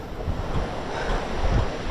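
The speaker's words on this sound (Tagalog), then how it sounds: "Ganyan kalalaki alon dito sa part na to ng dagat Pasipiko." Big Pacific Ocean waves roll against the coast of an island, a steady loud wash of surf mixed with wind noise on the microphone, with no voices.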